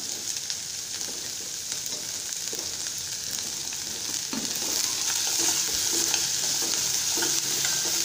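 Small shallots sauté in a pan with salt, giving a steady, close sizzle and frying crackle with occasional stirring scrapes that grow slightly louder partway through, and no voices.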